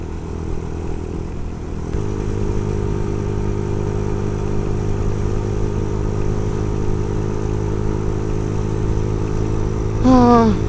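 A motorcycle fitted with triple pannier boxes is ridden along a road. Its engine note steps up after a couple of seconds and then holds as a steady mid-pitched drone, with a brief higher sound near the end.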